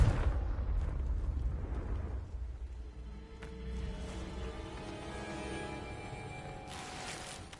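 Confringo blasting spell exploding in Hogwarts Legacy: a loud booming blast at the start that rumbles and decays, followed by crackling debris and a second softer burst near the end.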